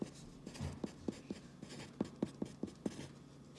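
Handwriting on paper or a board while working a trigonometry problem, writing out sine values: a series of soft, closely spaced pen or chalk taps and strokes in an irregular rhythm, close and quiet, with no talk.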